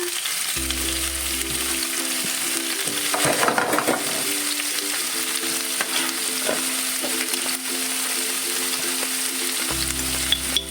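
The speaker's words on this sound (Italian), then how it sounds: "In padella mettiamo un po' di olio extravergine d'oliva. Quando è caldo aggiungiamo il tofu." Tofu fries in hot extra virgin olive oil in a pan, giving a loud, steady sizzle that runs throughout, with a low background hum and occasional clinks of stirring.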